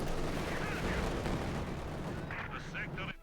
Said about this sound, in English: We got another anti-tank strafe here to cover the flank here.